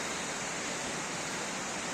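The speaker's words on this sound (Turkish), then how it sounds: "Aktaş Şelalesi diyorlar" Aktaş Waterfall pours in a steady, dense broadband roar, close and unbroken throughout with no voices.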